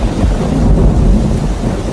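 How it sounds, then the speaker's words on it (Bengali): A heavy thunderstorm used as a story sound effect: dense, loud roaring rain with deep rumbling thunder, continuous and enveloping with no speech. "মাঝে মাঝে বাজ পড়ার শব্দে যেন থরথর করে কেঁপে উঠছে বাড়িটা।"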